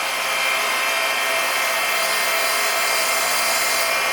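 Sandpaper pressed against a wooden pen blank spinning on a wood lathe, working through grits from 80 upward, gives a steady, loud, unbroken whirring hiss with a constant motor drone beneath and no pauses.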